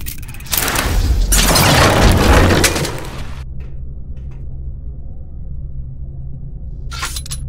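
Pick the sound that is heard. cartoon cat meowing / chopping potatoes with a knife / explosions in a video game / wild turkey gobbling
explosions in a video game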